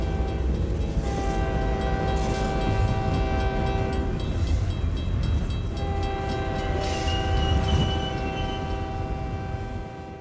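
A heavy MRS train rumbles past close by, sounding its horn in long sustained blasts over the steady roar of the wheels.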